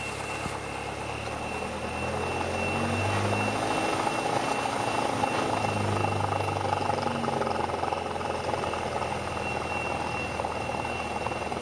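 A Cessna light aircraft's piston engine drones steadily and loud in the cabin during departure, a continuous broadband hum with a faint steady tone above it, holding even after rising at the start.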